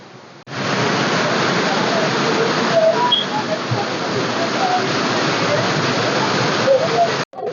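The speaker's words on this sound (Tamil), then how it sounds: "இதுவே ஒரு பெரிய ஃபால்ஸ் செம்மையா இருக்கு" Large waterfall at Mekkarai Manalaru falls near Tenkasi, a steady, loud, close roar of falling water that continues almost unbroken for about seven seconds and cuts off near the end.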